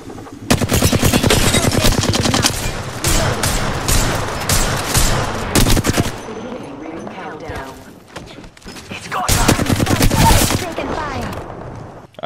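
Rapid automatic gunfire in the Apex Legends video game, loud dense bursts of shots in quick succession, pausing briefly before another burst, with a voice talking over parts of it.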